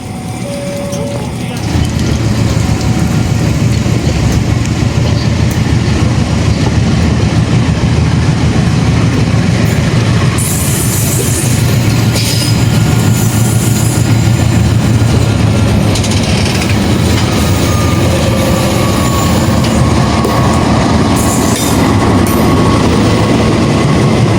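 A locomotive shunting the Pandalungan train at Jember station, Indonesia rumbles along the tracks nearby, a loud continuous roar with clanking and squeals, and faint talk mixed in.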